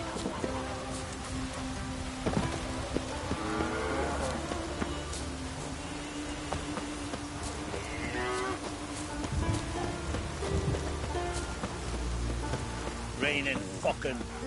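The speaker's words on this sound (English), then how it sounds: "Raining fucking buckets." Heavy rain pours steadily in The Witcher 3: Wild Hunt, a dense continuous hiss filling the whole stretch. Low animal lowing and other in-game sounds drift faintly beneath the downpour.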